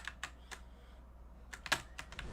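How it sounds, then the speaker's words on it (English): Computer keyboard keys click softly while a video game is played, a few scattered taps then a quicker cluster of clicks, faint and close with no talk. "Yeah, you might hear the keyboard clicks here."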